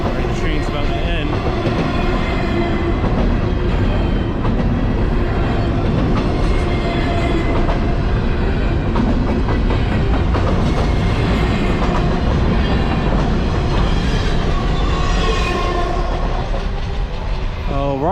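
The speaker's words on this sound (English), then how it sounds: "All right, here's the train." Freight train rolling past at night in Stockbridge, Georgia, loud and close, a continuous rumble with rhythmic clickety-clack of wheels over rail joints and metallic squeals, sustained the whole time.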